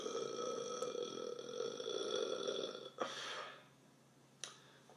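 A long, drawn-out human burp sounds loud and close for about three seconds, then stops abruptly. Brief clicks and quiet background follow.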